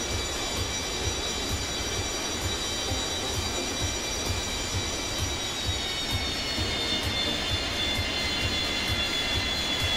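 Boeing 727-200 jet engines in the X-Plane 10 flight simulator during a crosswind landing, a loud, continuous roar with a steady high whine layered on top, filling the whole stretch without letting up.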